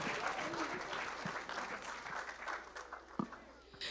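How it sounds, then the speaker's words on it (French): Audience applause for Sunday school teachers at a bilingual church service, a steady wash of many hands clapping that carries on for a few seconds, fairly close and dense. "Let's give them a big round of On applause."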